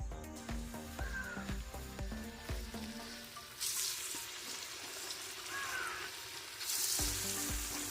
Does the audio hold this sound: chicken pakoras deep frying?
yes